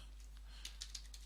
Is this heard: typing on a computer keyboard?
yes